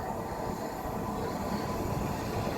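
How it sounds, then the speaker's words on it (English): An LNER Azuma train arriving at platform 1 at Grantham station, a steady rumbling roar of the rolling train with faint wheel hiss, continuous and fairly close, with no talking. "Next up into platform 1 is the 1605 LNER Azuma service from Lincoln Central to London King's Cross"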